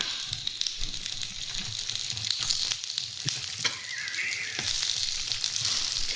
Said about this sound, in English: Listen to that bad boy sizzle.